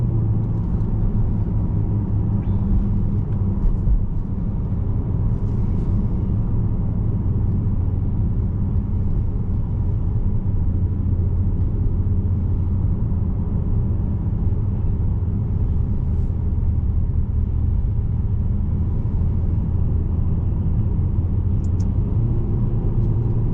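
A 2015 Maserati GranTurismo Sport engine runs at about 2,000 RPM with a steady, low, throaty rumble heard from inside the car, droning evenly throughout without speech.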